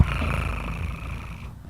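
A person imitates a cat purring with a steady, rumbling low purr that is close and fairly loud, continuing evenly for over a second before trailing off.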